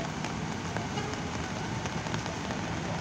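Rain pours at a bus terminal, a dense and constant hiss of drops with faint scattered ticks and no voices.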